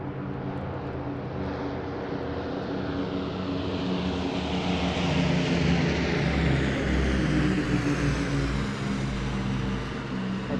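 An aircraft sweeps past on the closing display pass of an airborne commemoration day at Eastbourne International Airshow, a loud, sustained broadband engine roar that builds steadily and stays strong throughout with a slight rising sweep.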